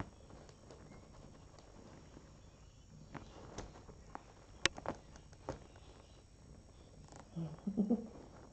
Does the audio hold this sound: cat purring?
yes